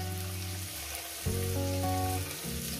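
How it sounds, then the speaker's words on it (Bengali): Garlic fries in a pan with a steady close sizzle, and a brief stir or clatter partway through. No one speaks. "রসুনগুলো আমি দিয়ে একটু ভেজে নেব।"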